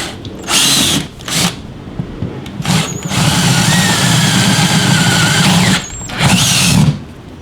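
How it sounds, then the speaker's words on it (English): A power drill with a 3/8 inch bit bores holes through a motorcycle saddlebag, whining loud and close in several bursts: short pulses first, then one long sustained run, then a final burst. "I'm going to use a 3/8 inch drill bit to finalize it"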